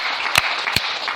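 A church congregation applauding the Lord, with steady clapping and cheering filling the space and a few sharper claps standing out.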